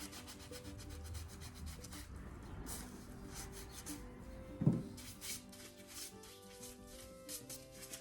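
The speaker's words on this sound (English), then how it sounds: "I don't like ridges there, so I like to smooth them out" Wet rubbing smooths ridges on a paintable stone heart made in a mold, using water: a soft, steady scraping hiss runs throughout, faint and close, with one brief knock midway.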